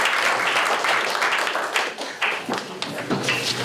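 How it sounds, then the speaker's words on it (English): An audience at a cannabis insurance symposium in Los Angeles claps steadily, a dense, close patter of applause that thins out toward the end with a few scattered claps. "How about a round of applause for"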